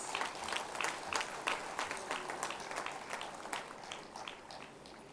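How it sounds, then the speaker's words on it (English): An audience at a ceremony applauds award winners with dense, distinct hand claps that fade gradually, with no talk. "Please give a big round of applause to all the award winners."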